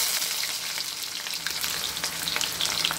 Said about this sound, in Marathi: तर आपण आता इथे टाकून घेऊया कांदा।